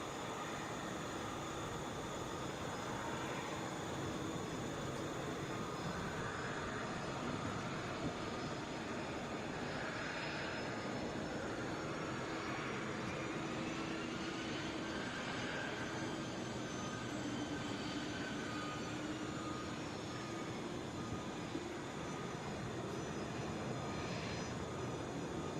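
A jet airliner on approach into Atlanta's international airport, a low, steady engine roar holding at moderate distance for the whole stretch with no talking over it.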